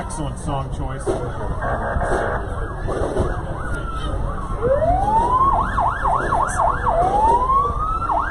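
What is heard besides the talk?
fire truck siren in a parade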